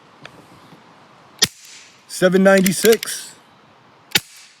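AEA HP SS air rifle firing H&N Hornet pellets, three sharp, loud cracks spaced apart, with a person speaking briefly between shots.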